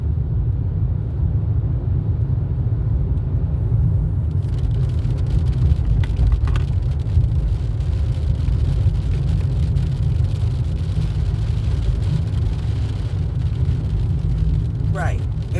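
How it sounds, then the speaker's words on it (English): Rain falls steadily outdoors as a dense, continuous hiss beneath a constant low rumble like passing traffic, with a few faint sharper taps near the end. "And so now it started raining."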